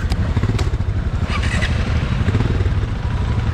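A KTM 390 Adventure motorcycle engine close by, catching and settling into a throaty, rumbling idle that stays loud and steady for a few seconds.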